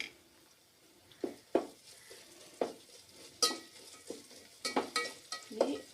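Ginger garlic paste frying in a pan for mutton biryani, with soft sizzling under repeated scraping and stirring strokes from a spoon, close up and fairly quiet, no talking.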